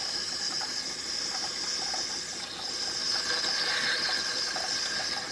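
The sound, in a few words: Gaggia espresso machine pumping water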